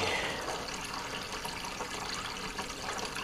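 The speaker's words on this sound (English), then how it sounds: "As I'm racking, I'm trying to splash into the wall" Wine being racked from one vessel into another, the stream splashing against the vessel wall as a continuous bright liquid gurgle and trickle, steady and close.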